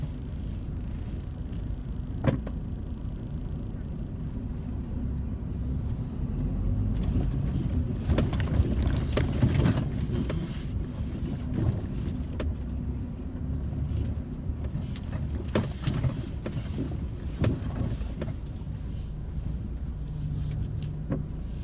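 A car rolls out through a parking gate, giving a steady low engine and road rumble with wind buffeting and occasional clicks and thumps throughout.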